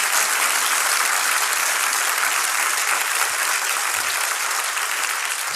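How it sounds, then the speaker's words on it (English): An audience in a London hall gives a sustained round of applause, steady, dense clapping from many hands that keeps an even loudness for several seconds, with no voices over it. "I think we should give a massive round of applause to George Harrison for his incredible service."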